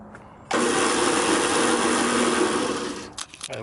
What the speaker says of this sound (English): this is my drill press that I've modified. It's got a treadmill motor on here.